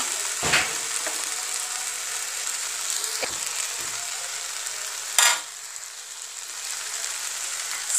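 Potato, carrot and peas curry cooking in a pan on a gas stove, a steady soft sizzle and hiss close by with a few brief clinks of a spoon, no voices.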